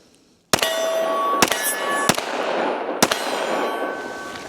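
Four sharp, loud pistol shots from a Smith & Wesson M&P Carry Comp 10mm, spaced unevenly and each followed by a ringing metallic tail and reverberation.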